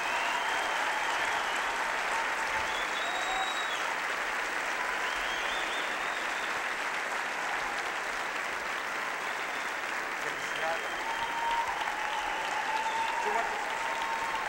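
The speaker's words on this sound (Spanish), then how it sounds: "Un aplauso para ambos." A large audience applauds at a live ideas-festival event, dense sustained clapping that fills the whole stretch evenly without fading, with a host's voice faintly over it.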